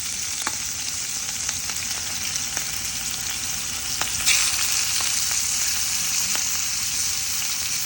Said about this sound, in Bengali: আমি মাছটা ভাজবো না, বেশি হালকা করে ভাজবো, মাছ তেল খেতে পারবে